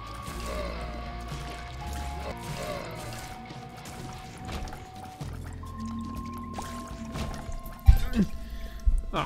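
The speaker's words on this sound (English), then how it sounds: "Oh shit, I spilled my water." Water spilling from a knocked-over glass during a video game session, a short splash and patter near the end after a stretch of steady game music and tones.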